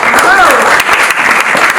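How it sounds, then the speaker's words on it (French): At an awards ceremony for a lawyer, a dense burst of audience applause plays loudly, with a voice speaking over it. "Je vous prie d'applaudir Monsieur Rodrigue Choual"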